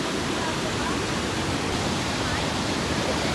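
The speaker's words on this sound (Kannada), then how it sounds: "ಫಾಲ್ಸ್ ನಿನ್ನಿಗಿಂತ ನೀರು ಕಡಿಮೆ ಐತಿ" Gokak Falls pours with a dense, steady roar of water that fills the whole moment without pause.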